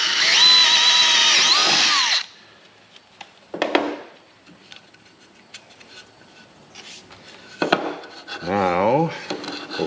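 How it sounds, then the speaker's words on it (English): A power drill bores through treated wood for a mini split stand, with a loud whining burst of about two seconds, then shorter bursts of drilling and clunks of handling among quieter gaps. "I can just drill this through."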